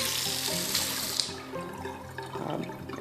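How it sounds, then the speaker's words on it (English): A Moen Tilt one-handle pullout modern kitchen faucet runs steadily with a full, close rush of water that keeps a constant hissing splash and shifts slightly in tone as the stream changes. "When I push that button to go to the spray, that's also a nice clean spray."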